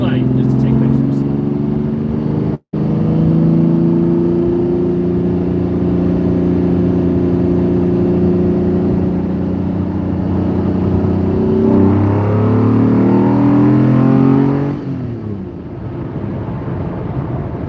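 Lamborghini Diablo engine accelerating while driving, a loud, close droning roar whose pitch climbs steadily and then shifts near the end as the engine eases off, with a brief dropout early on.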